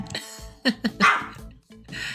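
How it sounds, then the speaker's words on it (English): A dog barks indoors in a few quick, close yips and barks spread over a couple of seconds, with no talking. "Now my dog is barking."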